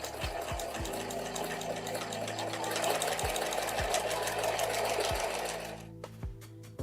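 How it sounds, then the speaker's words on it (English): A sewing machine fitted with a walking foot runs a 1/4 inch seam on quilt blocks, a loud, steady whirring stitch close up for about six seconds before it stops. "we're sewing everything here on our blocks with a 1/4 inch seam"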